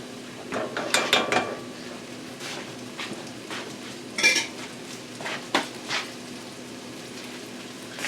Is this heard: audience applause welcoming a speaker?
no